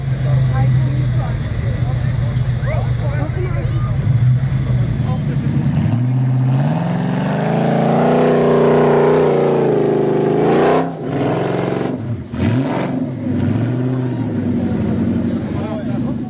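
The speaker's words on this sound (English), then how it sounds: "Expertly employing the rear wheel steering to power through the exit gate" A 4x4 at an off-road challenge event near Rustenburg powers through an obstacle's exit gate, its engine loud and steady with revving swells and dips while a commentator talks over it throughout.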